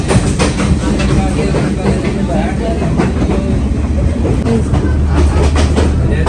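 A passenger train rolls into Kandy station in Sri Lanka with a loud, continuous close rumble and rhythmic clickety-clack of the wheels. Faint voices can be heard underneath.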